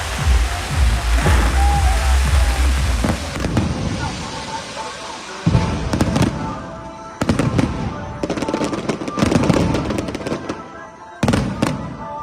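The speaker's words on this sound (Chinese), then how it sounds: "精彩国美的烟火将活动炸入另外一部高潮" Fireworks launched at a temple's spring ox-welcoming festival crackle and boom in dense bursts, loud at first and then in separate volleys with brief gaps, with crowd noise beneath.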